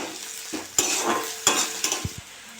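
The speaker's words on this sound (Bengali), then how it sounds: "আদা বাটা দিয়ে দেবো। একটু নেড়ে চেড়ে নেবো।" Ginger paste fries with onions in a pan, a steady close sizzle broken by repeated scraping stirs of a spatula and a couple of light metallic taps near the end.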